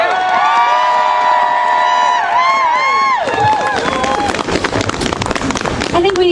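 A rally crowd cheers and applauds, whoops and shouts swelling into dense clapping after a stretch of excited voices, loud and close throughout.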